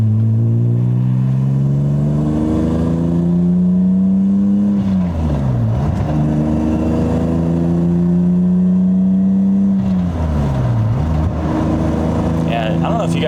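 A BMW E36 cruises at about 70 mph and 3,500 RPM, engine droning loud from the cabin with pitch sweeping up and down through gear changes.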